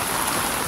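Steady rain pours down on a beach pathway in Boracay during a habagat monsoon morning, a dense continuous hiss with no breaks, close and fairly loud.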